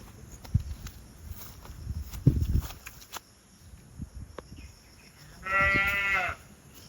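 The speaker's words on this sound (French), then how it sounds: "c'est une chèvre là-bas" A goat bleats once, loud and wavering, near the end of a run by Tai Lam Chung, after scattered footsteps and rustling on a trail.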